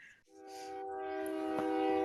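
A train horn sounds just outside a window, one steady sustained blast that swells gradually in a quiet room.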